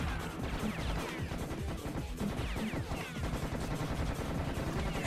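Dense bursts of gunfire from Serious Sam 1 HD rattle without pause, loud and close, with overlapping shots and crashing impacts packed into a chaotic barrage.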